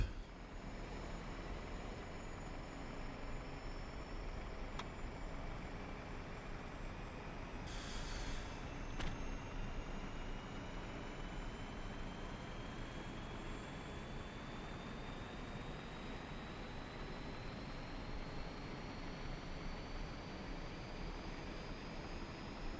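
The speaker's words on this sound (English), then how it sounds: "APU's firing up." Airbus A320 (FlyByWire A32NX) auxiliary power unit spooling up in Microsoft Flight Simulator: a steady, dense rumbling roar with a thin whine that slowly climbs in pitch throughout, plus a brief brighter burst partway through.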